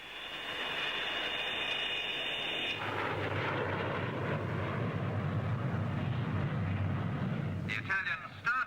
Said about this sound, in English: Some fine flying from Italy's Air Macchi MB326.